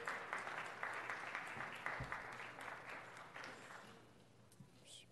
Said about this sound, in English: Let's give them a round of applause as they're coming forward.